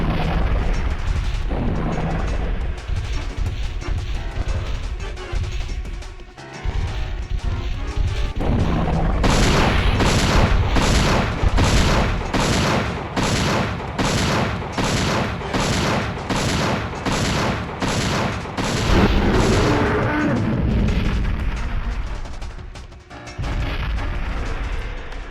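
Anti-tank weapon blasts in Dino Crisis 2 pound out as a rapid, regular barrage of loud booming explosions, with heavy crashing rumble before and after the rhythmic volley, close and dominant without talk.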